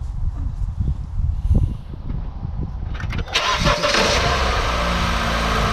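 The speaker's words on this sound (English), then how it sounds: "now after you're done, crank it up, make sure everything's good, everything runs smooth" A 2014 Honda Civic four-cylinder engine cranks after a tune-up, a rapid low starter chatter that catches into a loud, steady idle running smooth close by.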